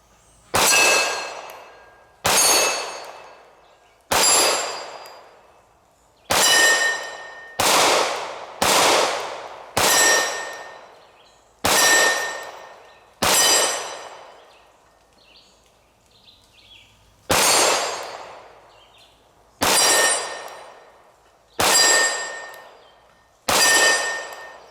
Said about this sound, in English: Let's run a magazine down at those targets and see how they do.